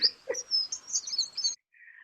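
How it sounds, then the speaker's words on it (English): A recorded American tree sparrow sings a short run of bright, high chirping notes lasting about a second and a half, clear against a quiet background, followed by a brief faint note after a gap. "This is the American tree sparrow."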